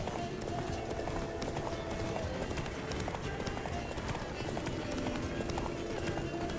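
Geralt's horse galloping in The Witcher 3, a steady run of clip-clopping hooves buried in a dense, continuous wash of game noise and music.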